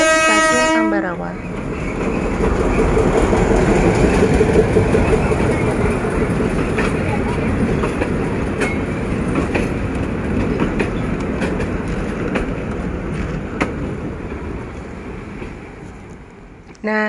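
A diesel-hydraulic train runs on an old Dutch colonial-era railway between Tuntang and Ambarawa stations. A horn blast opens the clip, then a loud, close rumble continues with steady clattering of the wheels as the train rolls past.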